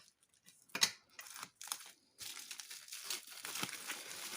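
Sticky protective film is peeled off an art canvas: crinkly, tearing plastic rustles in short bursts, then a longer continuous peel, close and fairly quiet.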